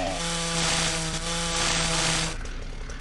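A chainsaw in the zombie video game Into the Dead runs at a loud, steady, high-revving buzz that holds for about two seconds and then drops away, with no talking over it.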